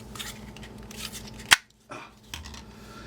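Black Kydex knife sheath rattling as a 1095 steel knife with brass pins is handled, quiet scattered clicks and scrapes with one sharp snap midway, then a brief hush.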